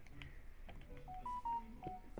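A phone dials nearby, giving off a quick series of short electronic keypad tones at uneven intervals over quiet background.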